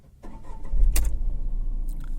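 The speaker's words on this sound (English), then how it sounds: "So let me just switch on the car right away to show you how much is the vibration like from a 3-cylinder unit." A 2018 Tata Tiago petrol automatic with a 3-cylinder engine cranks and fires up after a brief key jingle, then settles into a low, slightly uneven idle rumble close to the microphone.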